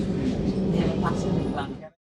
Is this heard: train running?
yes